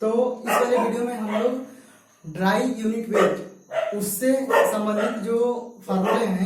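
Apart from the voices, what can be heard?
dogs barking in the street at night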